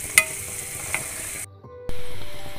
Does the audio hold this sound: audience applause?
no